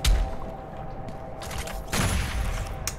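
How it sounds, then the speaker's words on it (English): Heavy cannon gunfire in the Doom Eternal video game: sharp, loud blasts at the start, again around the two-second mark and once more near the end, layered over steady game music. "I'm liking the heavy cannon."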